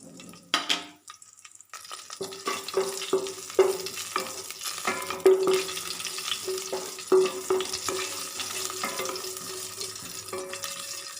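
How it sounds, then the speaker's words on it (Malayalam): Fennel seeds fry in two spoons of coconut oil in a pan. After a brief quiet moment near the start, a steady sizzle runs under repeated spoon taps and scrapes against the metal. "അതിലേക്ക് 2 സ്പൂൺ വെളിച്ചെണ്ണ ഒഴിച്ചു കൊടുക്കാം. ഇതിലേക്ക് 1 സ്പൂൺ പെരിഞ്ജീരകം ഇട്ട് കൊടുക്കാം."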